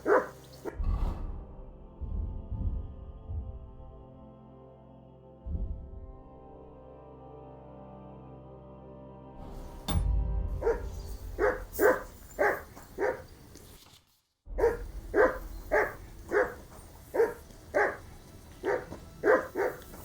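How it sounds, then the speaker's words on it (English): A dog in Kingdom Come: Deliverance 2 barks repeatedly in a rapid, steady series of sharp, loud, close barks, preceded by a few earlier yelps and quieter gaps, with no talk. "I assume you can hear that damn dog of yours barking."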